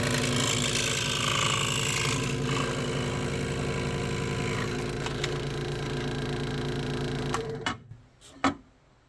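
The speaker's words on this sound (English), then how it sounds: "I'm going to go ahead to the scroll saw, where we're going to cut this piece out here" A scroll saw cuts out a Kydex piece for a Glock 19 IWB holster, its motor humming with a rapid mechanical chatter that runs steadily and loudly, then stops, leaving a few sharp knocks.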